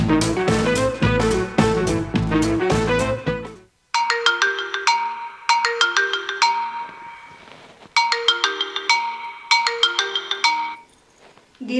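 A phone ringtone plays a loud, close electronic melody: a busy opening run, then repeated chime-like phrases separated by short gaps, with no voices.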